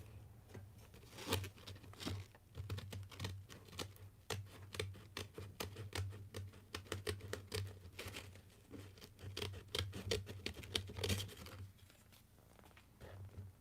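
Scissors cut through material for a Doom Buggy craft project, making a long run of close, dry snips and crinkling rustles at a steady, busy pace with no voices.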